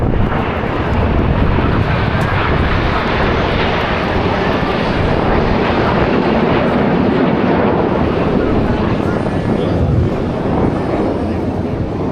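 Red Arrows jets fly past at the Blackpool airshow, a loud, continuous roaring rush of engine noise that fills the whole stretch, with a commentator's voice faintly underneath.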